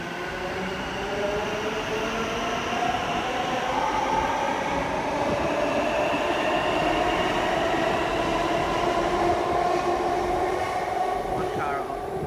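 A metro train runs steadily, its wheels rumbling along the rails with a constant roar and faint tonal whine, heard from on board with no break.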